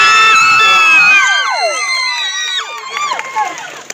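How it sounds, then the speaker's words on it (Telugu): Concert crowd at a singer's Pongal 2025 show erupts in loud, dense cheering and high whoops, near and overlapping, then thins out after the first second and a half into scattered shouts and voices. "మీ అందరికీ గట్టిగా ఒకసారి క్లాప్స్ కొట్టండి."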